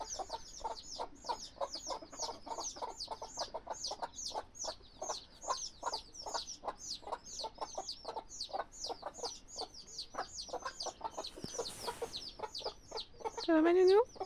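A steady stream of high, rapid chick peeps rises among hens in a coop, close and rhythmic, with faint clucking beneath and a louder burst near the end.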